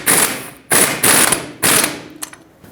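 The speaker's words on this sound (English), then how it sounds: "Now grab your tools and tighten this up." A hand ratchet tightens the front sway bar link mounting nut on a 1999-2007 Ford F-350, with four loud, close bursts of rapid clicking separated by short pauses.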